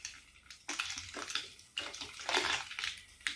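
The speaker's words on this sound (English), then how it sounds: "Give it a stir." A non-alcoholic Pimm's with balsamic vinegar being stirred in a jug, giving irregular liquid swishes and clinks that rise and fall over a few seconds, fairly close and with no talking.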